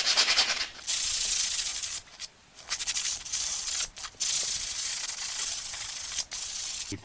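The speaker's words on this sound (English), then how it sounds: "What I can do is to grab a sandpaper, make it a little bit nicer." Sandpaper rubs by hand over a camera stand in steady, close, hissing strokes, broken by several brief pauses.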